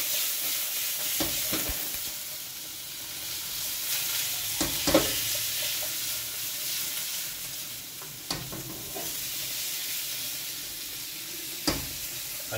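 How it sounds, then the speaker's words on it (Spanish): Food frying in a home-kitchen pan and flambéed with a splash of vinegar, giving a loud, continuous sizzle and hiss with occasional sharp stirring clicks against the pan. "Vamos a darle una pequeña flameada. Ciertamente un poquito de vinagre va a flamear."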